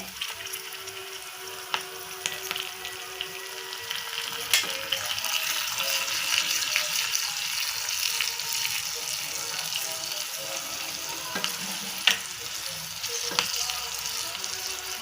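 Spices crackle and sizzle steadily in hot oil, with sharp pops and clicks scattered throughout.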